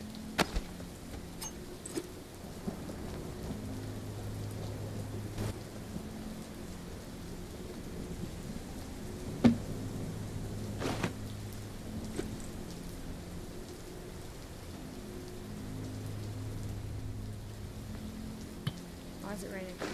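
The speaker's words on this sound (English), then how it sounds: "It's raining." Steady rain falls in The Walking Dead VR game, a soft constant hiss with faint low rumbles and occasional ticks, quiet throughout.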